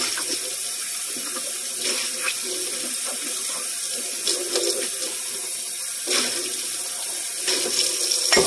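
Tap water runs steadily in a kitchen sink while coffee filters are rinsed, a continuous hiss with a few brief splashes and clatters.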